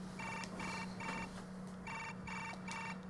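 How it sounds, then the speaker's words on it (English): A smartphone ringtone from the video game Chaos;Child rings in repeated short bursts with brief gaps, a bright electronic pattern over a steady low hum, clear and close with no talk. "Suddenly I heard the sound of a ringing phone."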